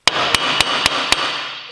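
Five evenly spaced, loud metallic hammer strikes on a Toyota KE10 Corolla's rear brake drum ring out close by, each blow leaving a bright resonant ring.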